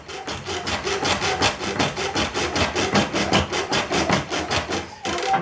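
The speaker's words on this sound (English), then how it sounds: "with the air movement and the rag on there, it's almost polishing it, sort of buffing it out a little bit" A rag buffs a shellac finish on wood spinning on a pole lathe, making a loud, rhythmic back-and-forth rubbing with regular pulses like strokes of the treadle, ending in a brief pause.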